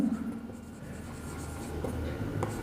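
Marker or chalk writing on a board during a class 9 maths lesson on Heron's formula, a steady scratchy scrawl running close and moderately loud for a few seconds with no talk over it.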